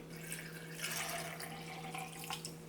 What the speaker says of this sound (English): I'm gonna measure out 1 cup of the aloe vera juice.